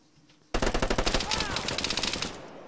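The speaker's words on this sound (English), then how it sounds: "he has like an M249 or M60 or something, and it's like a one-shot kill with a 200-round magazine" Sustained automatic fire from a light machine gun such as an M249 or M60 in the Project Argo shooter game, loud rapid bursts starting abruptly after a brief quiet moment and continuing steadily to the end.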